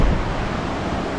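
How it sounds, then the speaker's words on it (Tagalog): Strong ocean waves at Cabongaoan Beach in Burgos, Pangasinan, a steady loud roar of surf with wind rumble, continuous and close, no voices. "dahil napakalakas talaga ng alon."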